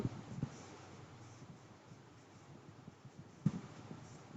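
A marker or chalk taps and scratches faintly on a board during a physics lecture on electric dipoles. The strokes come in soft, sparse bursts at close range, with no talk heard.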